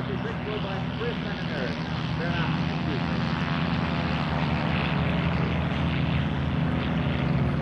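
A CJ-6 propeller warbird flies at a 2003 airshow, its engine a steady, loud, continuous drone with a broad roar that holds level throughout, and faint crowd or announcer voices are mixed beneath it.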